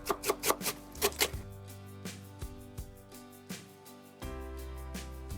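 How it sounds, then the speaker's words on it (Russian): Cabbage being thinly shredded with a knife on a cutting board, a quick run of crisp chopping strokes at the start, then slower, scattered cuts, close and clear with no talking. "Капусту тонко шинкую."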